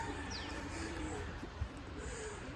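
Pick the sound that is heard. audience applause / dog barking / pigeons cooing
pigeons cooing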